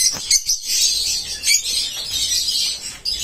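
Many lovebirds chirp and twitter together in a busy high-pitched chorus at a large bird farm, close by, with a few brief rustles.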